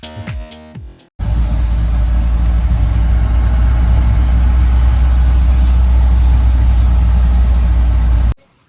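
A loud, steady motorcycle engine idles close by for several seconds in Ooty, a constant low rumble that cuts off abruptly at the end.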